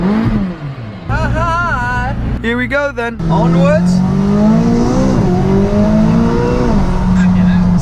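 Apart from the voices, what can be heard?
McLaren 570 horsepower sports car engine revving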